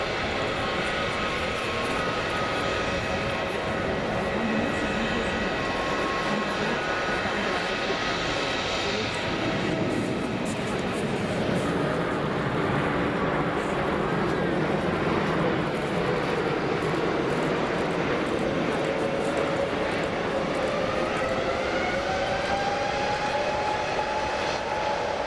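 An old Lufthansa Airbus A330 in the old livery taxiing out at Frankfurt Airport, its engines a steady, broad roar at moderate distance with a rising whine near the end, with no talking.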